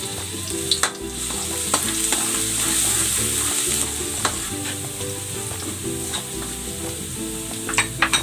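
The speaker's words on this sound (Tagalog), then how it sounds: "Gigisa ko na tong bawang." Chopped garlic sautéing in hot cooking oil, a steady close sizzle with occasional utensil scrapes and clinks against the pan, no talking.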